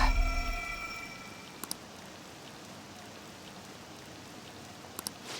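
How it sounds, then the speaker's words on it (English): Steady rain in the video game Persona 5 Royal hisses evenly throughout, with a faint musical tone fading at the start and a couple of small clicks. "This rain ain't too bad."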